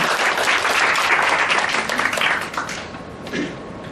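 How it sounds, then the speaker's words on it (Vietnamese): Audience applause welcoming a doctor at a technology training session in a hotel: a loud, dense burst of clapping that eases off toward the end, with a brief voice near the close. "Xin chào bác sĩ không một tràng pháo tay."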